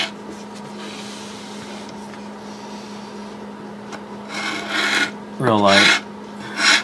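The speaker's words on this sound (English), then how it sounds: "I'm going to go over with some sandpaper again." Sandpaper rasps over the rough, splintery wooden case of a 1934 Ingraham Bedford wall clock, with a few close scratchy strokes in short bursts toward the end over a steady background hum. Someone speaks briefly.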